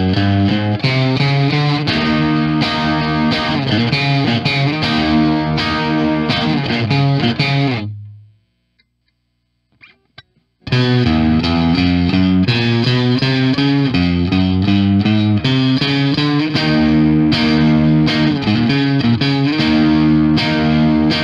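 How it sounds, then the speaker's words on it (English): Chapman ML1 Traditional V2 electric guitar with the gain backed off for a bluesy, lightly overdriven tone; loud chords and riffs played alone, broken by a roughly three-second silent gap in the middle. "same settings as before, but with the gain backed off quite a bit for, you know, a little bit more of a bluesy type of sound"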